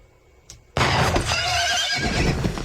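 A horse gives a loud, close whinny that bursts in suddenly after near silence and carries on as a long, shrill neigh, heard on its own.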